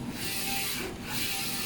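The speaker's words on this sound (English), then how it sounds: "the Focus Nebula Forge 2F DTF printer." Steady mechanical whir of a Focus Nebula Forge 2F DTF printer running a print job, a continuous broadband hum with a brief dip partway through, close and alone with no talk.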